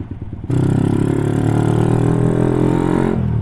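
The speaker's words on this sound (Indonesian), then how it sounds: "Berebetnya seberapa parah nih motor." A Yamaha MX 135 motorcycle engine runs loud and steady at close range with a rough, uneven sputter, suited to cold mountain air, starting abruptly and holding for about three seconds before dropping back.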